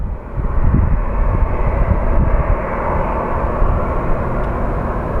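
Steady, loud roar of an airliner's engines as it slows toward its gate at Phoenix Sky Harbor International Airport, a broad continuous rumble held throughout with no talk.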